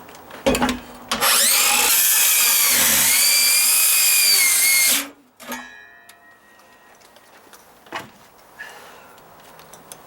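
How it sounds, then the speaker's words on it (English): A battery-operated reciprocating saw (Sawzall) rips through a dry rot wood stud during deck repairs: a loud, close, rasping burst lasting about four seconds, then quieter scraping and knocking. "Take my battery operated saw."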